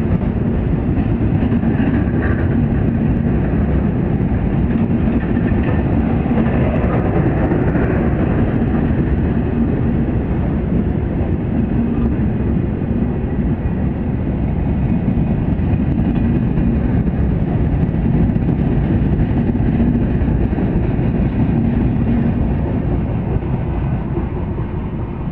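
The Benapole Express passenger train pulls out of Dhaka at night, a steady, loud, continuous rumble of the train moving close by that holds without a break for the whole stretch.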